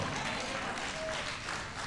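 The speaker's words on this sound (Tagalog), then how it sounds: "Yung palakpak natin" A church congregation claps during a sermon, a brief, steady wash of applause heard at moderate distance.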